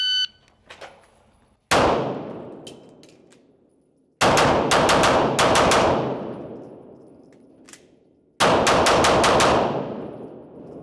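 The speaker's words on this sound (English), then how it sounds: "all I'm doing is on that recoil, I'm bouncing my sights over, and I'm shooting the next relay" Handgun fire on a police academy firearms course range: loud bursts of rapid shots in three strings, each ringing out with a long echoing decay before the next volley, no talking.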